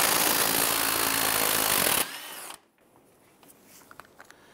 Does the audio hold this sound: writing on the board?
no